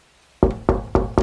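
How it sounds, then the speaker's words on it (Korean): Four firm knocks on a door, close and sharp, evenly spaced with a brief pause before the first, against near silence. "누군가 문을 두드렸습니다"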